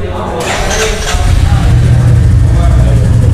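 A 2021 Royal Enfield Classic 350 motorcycle engine cranks and catches, then settles into a steady, loud low thump at idle while someone talks over it.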